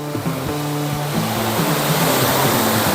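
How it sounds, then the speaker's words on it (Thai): A waterfall at Ko Luang in Mae Ping National Park pours clear blue water downhill, giving a steady, close rush of broadband noise for the whole stretch, with faint tonal low hum lines running beneath it. "น้ำตกที่ไหลไปนี่ใสเลยนะเป็นสีฟ้าแบบนี้เลยทุกคน"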